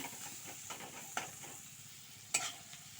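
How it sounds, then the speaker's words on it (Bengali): Green chilies frying lightly with salt and turmeric for a taro-leaf dish, a steady soft sizzle with a couple of sharp clinks of a utensil against the pan partway through. "লবণ হলুদটা দিয়ে একটু হালকা করে ভেজে নেব আমি কাঁচা লঙ্কাটাও দিয়ে দিয়েছি"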